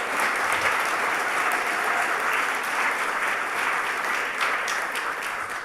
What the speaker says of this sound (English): how about one more applause for these two amazing students that just spoke?